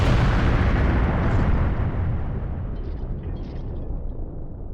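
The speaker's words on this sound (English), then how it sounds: "You can see the explosion effect ending towards the right side of the screen." A game explosion effect in Goemon's Great Adventure recomp, a loud rumbling boom that bursts at once and slowly decays over several seconds, with no talk.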